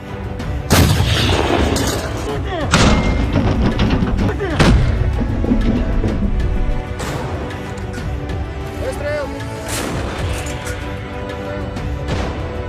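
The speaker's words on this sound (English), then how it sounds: "the Russian army uses self-propelled artillery mounts Malka and Payan" Russian self-propelled artillery mounts, Malka and Pion types, fire repeatedly in a field combat setting near Donetsk, with loud booming blasts and echoing rumbles spaced every few seconds over a steady background roar.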